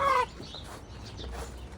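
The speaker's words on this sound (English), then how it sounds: "I got a bunch of hungry chickens this morning." Hungry chickens cluck on a farm after a big blizzard, a short, fairly faint burst of clucking at the start followed by quieter soft murmurs, close by.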